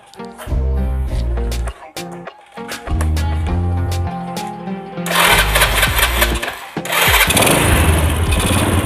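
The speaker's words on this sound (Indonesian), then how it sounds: "lalu kita tes hidupkan ya, kita tes hidupkan motor ini." A motorcycle engine with a flooded carburetor, just serviced, cranks in short bursts with pauses, then catches around the halfway point and runs loudly and steadily, revving rough and close.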